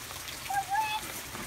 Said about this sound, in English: Do you like the rain, Gavin?